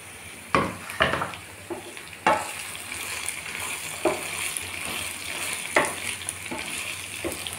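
Drumstick pieces sizzle in a pan with a ground masala of peanuts, dried red chillies and garlic, steady frying crackle broken by several sharp scraping stirs of a spoon.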